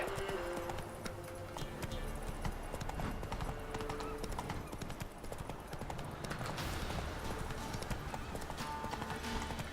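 A horse gallops in the video game The Witcher 3, a continuous rapid clip-clop of hooves under game music and ambience, with a brief whinny and a voice speaking now and then.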